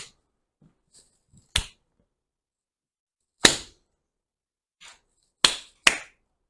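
Sharp single hand claps, four loud distinct ones spaced irregularly with a few faint softer taps between, each a crisp dry crack that decays quickly into near silence in a quiet room.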